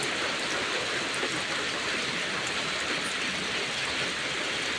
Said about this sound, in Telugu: చూసారా వర్షం ఎలా కురుస్తుందో?